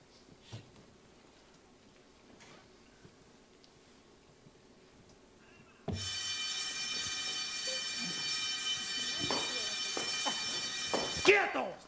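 An alarm bursts on about halfway through and keeps ringing as a loud, steady, high electronic tone, with voices and scattered noises over it; before that there is only quiet background.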